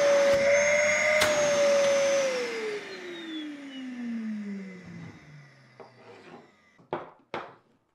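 Henry vacuum cleaner used as a dust extractor, its motor running loud and close with a high whine, then spinning down as the pitch falls, followed by a few short knocks and rustles.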